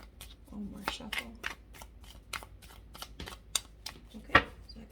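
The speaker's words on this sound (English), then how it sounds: "One more shuffle." Oracle cards are given a quick shuffle, with close, crisp flicks and slaps in an uneven rhythm and a sharper snap near the end, while a voice speaks softly underneath.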